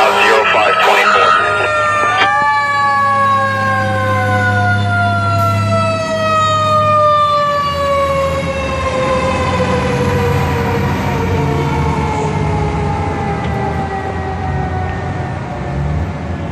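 A fire truck from a northern New Jersey fire department responds to a call, its loud siren winding down in a long falling wail over a heavy low engine rumble, close and constant.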